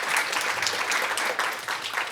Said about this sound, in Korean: 6분의 패널에 뜨거운 감사의 박수를 주시면 감사하겠습니다